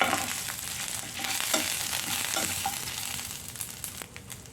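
Curry leaves frying in a pan of hot oil while dry prawn powder is prepared, a continuous moderate sizzle with crackles and occasional stirring clicks.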